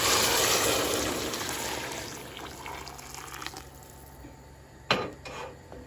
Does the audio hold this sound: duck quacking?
no